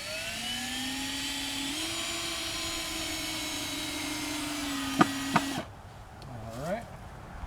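Cordless power driver drives screws through 2x4 boards into a wooden rack, a steady rising motor whine that cuts off with a couple of sharp knocks, then a brief second whir, close and loud.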